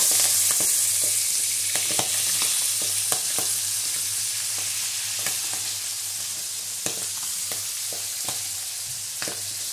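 Chicken liver sizzles and fries steadily in a hot pan, a continuous close crackle dotted with sharp pops, with no voices over it.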